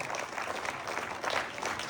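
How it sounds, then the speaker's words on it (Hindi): Audience applause at an afternoon session of an expert talk, a steady, dense patter of clapping from a hall crowd filling the short moment with no voices over it. "जोरदार तालियां सर के लिए एक बार।"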